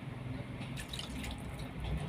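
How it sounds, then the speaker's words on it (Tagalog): Quiet liquid trickle and dripping as water is poured into a cooking pan of pork, soft splashes scattered over a low steady background. "Lagyan natin siya ng tubig"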